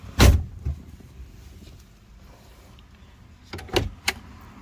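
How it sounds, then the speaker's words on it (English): A pickup truck door closing from inside the cab, fitted with a new Cobratek inside door latch: a loud thud, then a quieter stretch, followed by a second solid thump and a sharp latch click close by. "shut the door"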